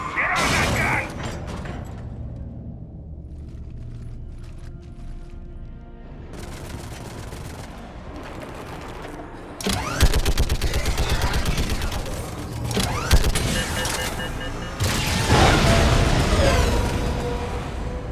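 Mounted gun firing in Mass Effect 3 amid a perimeter battle, with mechanical clanks and rattles giving way to sustained loud bursts of automatic fire and booms over the last half, mixed with battle noise.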